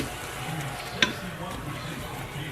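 Food is stirred in a pot over heat, a soft scraping sizzle running steadily along with one sharp clink of the utensil against the pot partway through.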